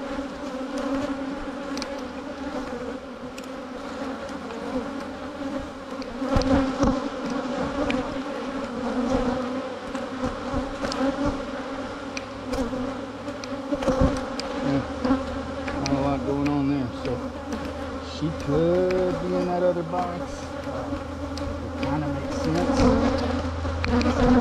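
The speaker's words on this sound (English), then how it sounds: "See the bees here in this corner are festooning." Honey bees drone steadily from an open hive during colony splitting, a dense close buzzing that swells and fades as individual bees pass near, with faint handling noises.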